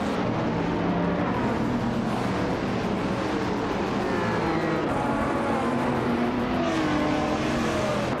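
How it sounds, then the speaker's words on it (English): Turbocharged street cars, including a 2018 McLaren Senna, race at Vila Real, a continuous loud roar of engines revving and passing, with shifting pitch as cars accelerate and sweep by, no talking. "Alright everyone, the race is underway at Vila Real, and our turbocharged street cars are blazing."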